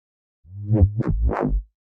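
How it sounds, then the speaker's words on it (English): A few deep, buzzy bass notes with a gritty, saturated distortion edge, played alone in a short sliding phrase, a future garage bass sound. "I added a distortion, and this is just a kilohertz distortion on saturate."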